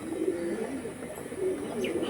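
Pigeons of original Chennai blood coo in low, repeated throaty calls, steady and fairly close, with a faint chirp or two in the background.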